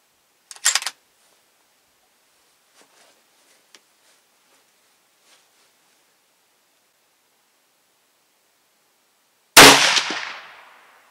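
Two loud rifle shots from an LA 102 carbine firing Barnaul ammunition at a sighting session, one at the start and one near the end, each a sharp blast with a brief echoing decay, separated by near silence with faint small clicks.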